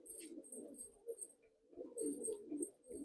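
Soft, low cooing from a Madrasi pigeon, repeated in a steady rhythm close by, with faint high chirps from other birds in the background.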